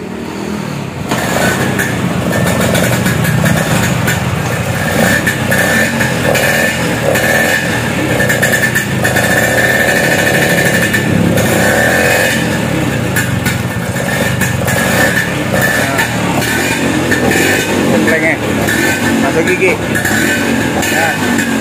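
A Vespa scooter engine revs loud and close during a clutch test, its droning note rising and falling steadily throughout with no pauses.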